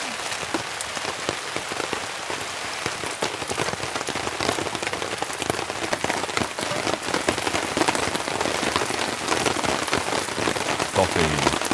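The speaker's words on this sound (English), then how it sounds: "These little pitter patters of droplets falling into the beach trees." Rain patters steadily on beech trees and a tent, a dense spray of close, light drops in a continuous crackling hiss that thickens slightly toward the end.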